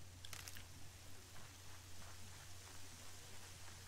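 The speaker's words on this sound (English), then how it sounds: "It's raining." Steady rain falls in the game Horizon Zero Dawn, a soft continuous hiss of drops spread evenly over the scene with a low constant hum beneath, quiet and uninterrupted with no one talking.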